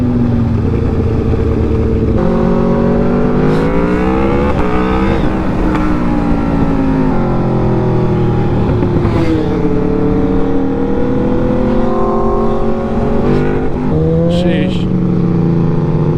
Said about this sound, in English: I still love the sound of this SC project on that bike.